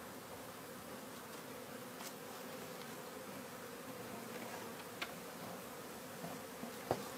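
Honey bees buzz steadily as a colony is transferred from a propolis container into a frame hive; a dense, even hum of many bees continues throughout, with a few brief sharper buzzes of individual bees passing close by.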